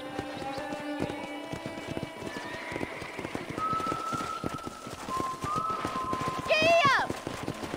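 Horse hooves clip-clopping at a steady trot in the Western video game Red Dead Redemption, a rhythmic close hoofbeat under a voice, with whistling and a brief whinny near the end.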